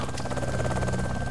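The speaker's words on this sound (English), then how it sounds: "Where's that heli? Where's it gone?" A helicopter in a video game whirs with a steady, rapid rotor chop and engine drone, close and continuous throughout.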